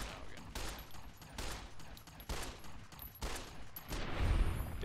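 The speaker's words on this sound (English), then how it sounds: "I think that caravan's shooting at him now" Rapid gunfire bursts from a caravan in the video game Fallout New Vegas, repeated thumping shots in quick clusters, fairly quiet and muffled, no speech.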